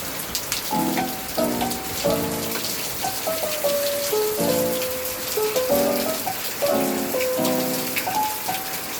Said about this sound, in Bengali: আজকে সকাল সকাল অনেক বৃষ্টি হচ্ছিল বাইরে।